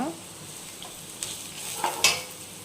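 Ivy gourd (dondakaya) slices fry in a pan, a low steady sizzle broken by a few stirring scrapes and a metallic clink near the end, close up with no speech.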